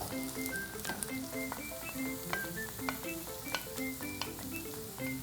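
Onions and scallions frying in oil in a wok for homemade black bean sauce, a dense, even crackling sizzle with constant small pops, heard close up and steady, with no one speaking.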